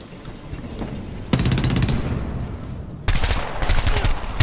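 Heavy automatic gunfire from the Homefront video game erupts in two loud, sustained bursts of rapid shots, separated by a brief lull of lower background noise.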